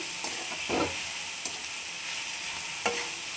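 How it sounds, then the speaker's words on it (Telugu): Ivy gourd fry (dondakaya) is stirred in an oiled pan over a soft steady sizzle, with a few sharp spatula scrapes against the pan at intervals. "మూత పెట్టి కలుపుకుంటూ ఉండాలండి. ఇలా కలుపుకుంటూ ఉంటే అవి మగ్గుతూ ఉంటాయి."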